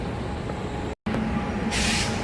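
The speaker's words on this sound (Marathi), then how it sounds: "चला बोरिवली ट्रेन आली" A local train pulls into a suburban station with a continuous, fairly loud rumble and rolling roar, a brief break partway through, then a hissing rush near the end, with no talking.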